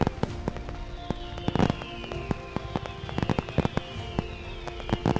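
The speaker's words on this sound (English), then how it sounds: "But when the fireworks started" Fireworks at Tokyo DisneySea, a rapid run of loud bangs and crackling bursts, some whistling rising shells, echoing in open air.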